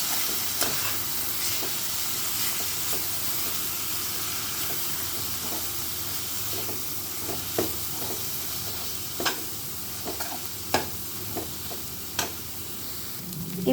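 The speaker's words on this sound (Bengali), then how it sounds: "নেড়ে ছেড়ে নেব আমি।" Egg being stirred in a hot frying pan for chowmein, a steady sizzle and hiss with scattered sharp scraping taps of the spatula, growing more frequent toward the end, no talk.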